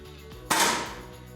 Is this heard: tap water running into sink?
no